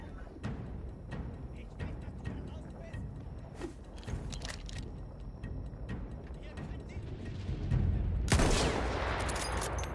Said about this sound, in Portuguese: Isso aqui é tiro, hein?